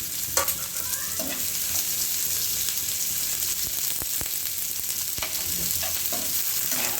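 Tomato fries with golden onions in a pan for a loud, continuous sizzle, with a few clinks and scrapes from stirring spread through it.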